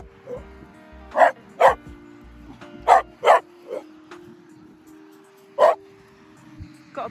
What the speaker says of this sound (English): Got a bark like a hunt away, haven't you, Ralph?